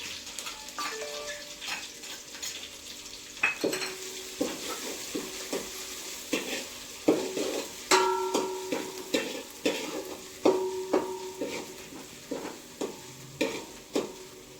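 A garlic, ginger and cumin paste fries in a pan while a spoon stirs it, a soft sizzle under repeated scraping clicks and taps that grow more regular, close and fairly quiet.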